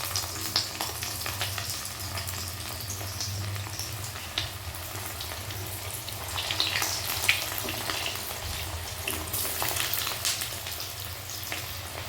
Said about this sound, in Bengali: এবার শুধু ভাজার পালা।